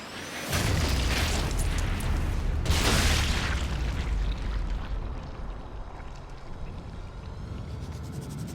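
In Sniper Elite 5 a booby-trapped dead body is thrown and explodes with a loud, deep boom. A second blast follows about two seconds later, and a long rumbling tail fades away.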